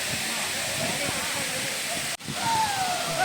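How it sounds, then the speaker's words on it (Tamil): A large waterfall in the Kolli Hills roars in a continuous, loud rush of falling water close by, with a brief dropout midway, while people talk over it. "அதனால் இது கொஞ்சம் பெரிய அருவி."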